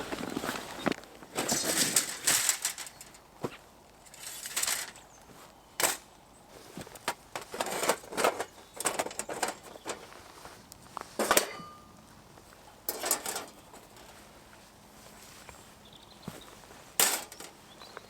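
A large folding metal fire pit being set up outdoors for camping, with a run of sharp metallic clanks, snaps and knocks of varying loudness spread irregularly across the clip, close by and with no talking.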